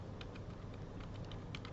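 Quiet, irregular clicks of typing on a computer keyboard, faint and fairly close with a soft room hum underneath.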